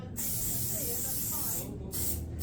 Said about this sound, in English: So I'm gonna spray this Grippy on here.